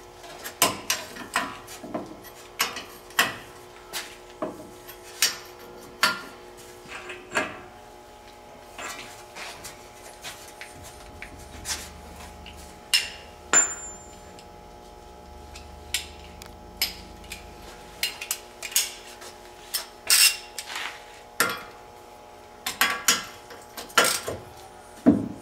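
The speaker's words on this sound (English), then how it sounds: "This ratchet is giving me grief." Ratchet clicking in short irregular bursts while working on a ball joint of a 2013 Dodge Ram 3500, close by, with scattered metallic clanks of tools between the clicks.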